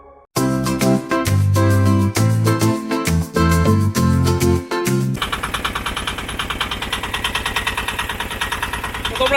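A small boat's motor on a ride away from a remote island starts up with sputtering, irregular bursts, then settles into a loud, close, steady rapid chugging that continues to the end.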